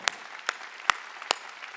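Four sharp, evenly spaced hand claps from a church congregation ring out in a reverberant worship hall, each a crisp broadband burst about half a second apart, with no talking between them.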